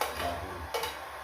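A spoon stirs ginataang kangkong in a pot, giving soft scraping and a light tick of utensil against metal over a faint bubbling simmer in a short, close-up moment.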